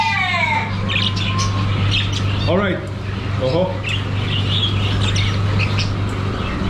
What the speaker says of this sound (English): Look at these beautiful birds, guys.